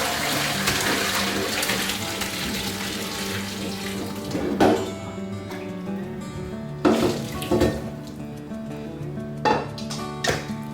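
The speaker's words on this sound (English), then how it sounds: "now that they're done boiling, I'm going to go ahead and strain them" Water pours steadily into a sink with running-tap splashing, broken by a few louder gushes and clatters as boiled tomatoes are drained in a colander.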